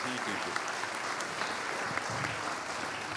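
Brief, steady applause from a conference audience greeting Mayor Cirillo at an opening session, a dense, even patter of clapping with a few sharper claps poking through.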